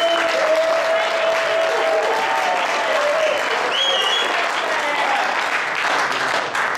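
Loud, sustained audience applause fills a crowded San Francisco community event, steady and dense for several seconds, with a few whoops and raised voices rising through the clapping.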